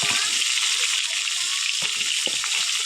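A catla fish head fries in spice paste, a loud continuous sizzle and crackle with brief clinks of a spoon against the pan, close and steady for the whole stretch.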